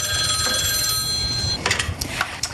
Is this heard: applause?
no